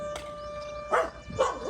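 A dog barks three times in short, separate bursts, close by and fairly loud, at a house where people are preparing for Ganesh Chaturthi.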